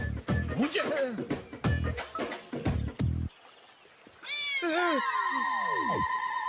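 After a few seconds of someone talking in a Hindi film scene, a cat lets out a run of loud, drawn-out meows that rise and fall in pitch.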